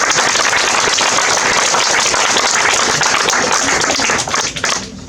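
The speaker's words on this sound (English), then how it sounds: "Another round of applause." An audience at an election forum for county clerk applauds, a dense, loud burst of clapping that carries on steadily, then thins out and fades near the end.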